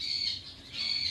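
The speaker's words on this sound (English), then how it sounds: "the birds are really loud today" Birds squawk loudly outdoors in two harsh, close cries separated by a brief pause, with no talking.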